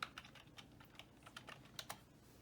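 Someone types a password on a computer keyboard, quiet rapid key clicks in an uneven rhythm, close by and alone.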